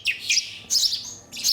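Starling nestlings in a rescue center's nestling room give shrill, close chirps in three quick bursts, loud and insistent, with no voices.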